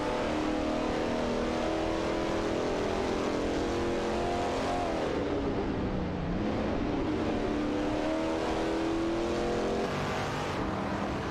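Video game race with a Porsche 964 and a Shelby Cobra 427 side by side, continuous engine roar with rising and falling revs and gear shifts, loud and steady throughout without talk.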